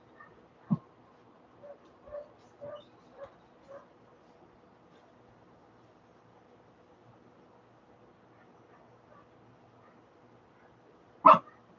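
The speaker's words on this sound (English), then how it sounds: "Lots of dogs barking outside." Distant dogs bark in a scattered series of faint yips, then a single louder, sharper bark near the end, with quiet stretches between.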